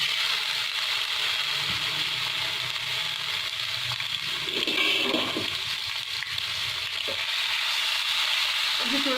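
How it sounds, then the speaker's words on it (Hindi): Chopped onion hits a tablespoon of oil in a preheated pan and fries with a steady, loud sizzling hiss that persists throughout, with a brief burst of stirring or crackle midway. "अब हम इसमें डालेंगे 1 टेबलस्पून ऑयल और ये हमारी जो चॉप की हुई प्याज है ये डालेंगे।"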